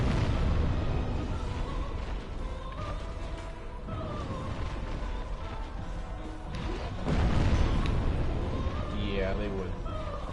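Deep rumbling explosions and crashes during a Dark Souls boss fight in Lost Izalith, layered with continuous game effects at steady loudness, a louder swell near the end, while someone talks throughout.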